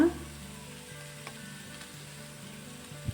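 Ginger garlic paste fries in a pan with a steady, moderately quiet sizzle, a soft stir clack near the start and a faint humming tone underneath, no talking.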